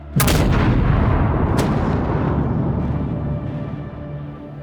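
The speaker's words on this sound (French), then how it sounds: "une deuxième explosion, bien plus violente encore, secoue le Vésuve" A second, far more violent explosion of Mount Vesuvius at nightfall: a sharp, loud blast at the start and another burst about 1.5 seconds later, each followed by a heavy, rumbling roar that slowly fades.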